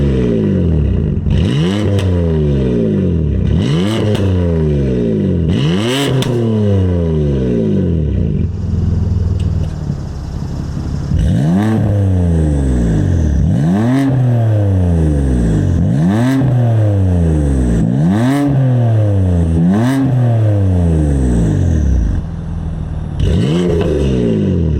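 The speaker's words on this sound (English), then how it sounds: "Let's get you guys some standing revs now." Repeated standing revs from a BMW M3/M4 fitted with a Maad Maxx exhaust, catless downpipes and valves open: about eight sharp rev blips swell and fall in a steady rhythm, loud and close, with no talking.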